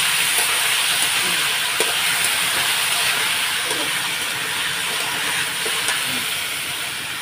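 Potatoes fry in a pan with a dense, steady hiss that runs without a break, while faint soft clinks and stirs sit underneath it.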